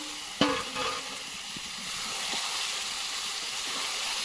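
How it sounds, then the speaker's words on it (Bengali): Meat drops into hot spiced masala in a pan with a sharp sizzle burst, followed by steady frying hiss and scraping stirs, close and fairly loud, no talking. "এবার মাংসগুলোকে দিয়ে দিতে হবে মাংসগুলো দিয়ে দিচ্ছি"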